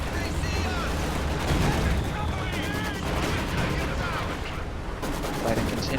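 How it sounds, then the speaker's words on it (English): Incendiary artillery shells burst and crackle over a battlefield in a strategy war game, a dense, continuous roar of distant explosions and gunfire with whistling tones threaded through, while a voice talks over it. "Incendiary artillery going down on those Panzer Fusiliers, forcing a retreat."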